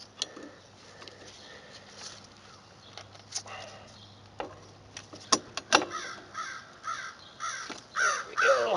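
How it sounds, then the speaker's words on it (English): Crows caw in short, scattered bursts, some loud and close, others fainter, outdoors beside a bike during rear brake repair work, with a low steady hum and occasional knocks underneath. "These crows, man."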